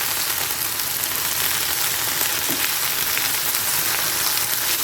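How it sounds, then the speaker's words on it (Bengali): Okra (bhindi) fries in a pan over a high flame, giving an even, unbroken hiss of sizzling oil that carries on alone at moderate volume. "ফ্লেমটাকে হাইতে রেখে আমি একটু সময় ভেজে নেবো এটাকে"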